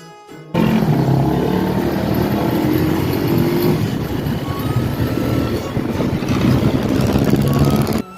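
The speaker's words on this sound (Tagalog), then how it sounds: "Grabe ang tuloy ng big bike na yun." A big bike motorcycle roars past at close range, a loud, steady engine and road noise that holds for several seconds with no talking.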